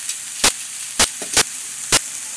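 Garlic and onion sizzling in a pan while being sautéed for ginataang langka, a jackfruit dish in coconut milk, with a steady frying hiss broken by four sharp bursts of stirring or scraping.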